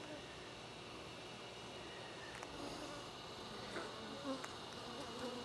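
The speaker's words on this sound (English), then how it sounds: "The bees are kind of getting in my way because I don't have smoke." A steady drone of honey bees buzzing all around at an open hive, low and continuous, with a few faint rustles in the background.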